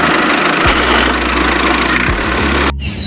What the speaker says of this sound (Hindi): बस ये लड़का ट्रैक्टर को लेकर चल दिया।